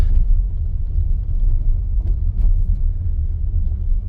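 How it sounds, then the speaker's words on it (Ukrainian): A 2018 VW Touareg 3.0 TDI rolls over a broken road strewn with slag, giving a steady low rumble of tyres and suspension from inside the cabin with faint knocks, no talk. "Якраз тут побита дорога, є отак і со шлаком все."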